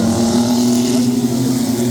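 Stock trucks roaring together at a green flag heat race start on a dirt oval speedway, a loud dense engine drone with a steady low hum and no pauses throughout.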